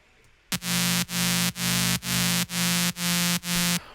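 A harsh, buzzy synth lead with pitch LFO holds one loud sustained note, pulsing in a steady repeating wobble about twice per second before cutting off.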